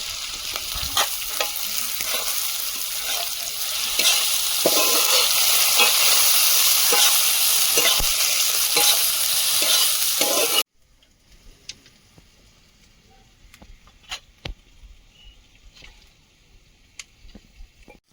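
Ground spices with turmeric and chili powder sizzle and fry hard in hot oil for a poultry meat curry, a loud steady crackle for about ten seconds that then cuts to near silence with a few faint scattered clicks.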